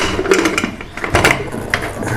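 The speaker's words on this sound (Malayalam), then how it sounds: "നമ്മൾ കുക്കർ അടയ്ക്കുകയാണ്" A pressure cooker lid being closed and locked in a home kitchen, heard as a quick run of close metallic clicks, scrapes and ratcheting clunks.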